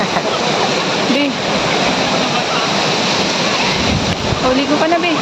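Steady, loud rush of Tinipak River water flowing over rocks, a broad continuous wash filling the scene, with faint voices briefly under it.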